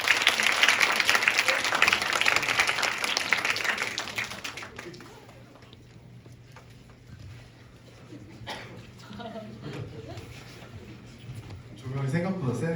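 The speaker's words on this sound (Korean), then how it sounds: "그럼 이기동 연사장님을 위해 큰 박수 부탁드리겠습니다." A lecture hall audience claps loudly to welcome a startup speaker, the applause holding for about five seconds before dying away into a quiet room where the speaker begins talking.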